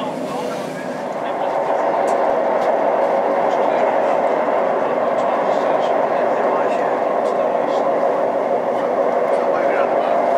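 Northern Rail class 158 diesel train running between Leeds and Carlisle on the Settle & Carlisle line, with a steady, loud interior rumble of engine and rails that continues without break and a faint tone partway through.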